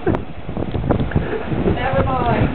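Hurricane Wilma's wind gusts roar and buffet the microphone in a loud, continuous rumble, with a voice talking partway through.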